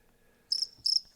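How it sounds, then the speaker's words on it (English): Two quick bursts of cricket chirping, a short sound effect, sit clear and alone against near silence. "That's my crickets."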